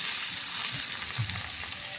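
Ingredients for urohi khar, an Assamese dish, sizzle steadily in a hot pan, a continuous close frying hiss with soft stirring bumps underneath and no voices.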